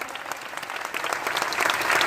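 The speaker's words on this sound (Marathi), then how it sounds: "तेजस साठी एकदा जोरात टाळ्या वाजवा" An audience at a devotional Navnath katha gathering claps for a child playing a role, a dense, steady round of applause that grows slightly louder toward the end.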